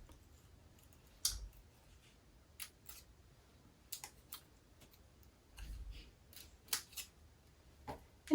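Scissors snipping through paper to cut out a girl and boy figure for a graduation tri-shutter card, a series of short, sharp, quiet cuts spaced irregularly with soft handling noise between them.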